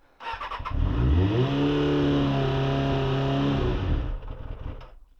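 A 1991 Kawasaki ZXR400 motorcycle, unused for three months, cranks and catches with the choke held on, then settles into a steady, rising idle before cutting out, loud and close with no talk.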